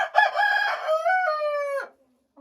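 An Ameraucana rooster in a coop pen gives one long, clear crow that rises and then holds before cutting off into silence. It is close and loud, with no talking.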